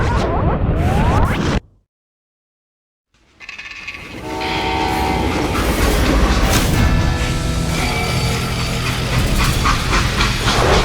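A train in the Western video game Call of Juarez Gunslinger rolls in with a loud clattering rumble and a horn-like whistle, rising out of a short stretch of total silence and holding steady, near and full.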